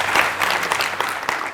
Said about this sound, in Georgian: აპლოდისმენტები ილიას.